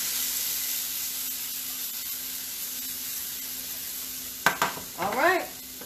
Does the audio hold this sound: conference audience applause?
no